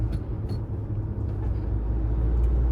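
An MG Hector SUV cruises along a highway, heard from inside as a steady, muffled low road-and-engine rumble without talking.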